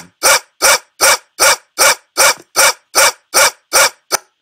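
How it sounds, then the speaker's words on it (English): A dog barks in a steady loop, about ten sharp, evenly spaced barks, loud and close, the last one cut short. "the barking sound. Now, um, if I click on loop and play it again, it should keep looping"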